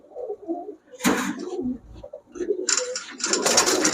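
A pair of big Tiger Grizzle pigeons coo softly and repeatedly nearby, low throaty calls broken by a few sharper rustling bursts, with no voices.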